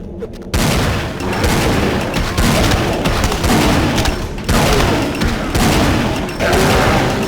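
Sustained gunfire in the video game Vampire: The Masquerade – Bloodlines, loud dense bursts of shots running almost continuously with brief gaps, booming and close.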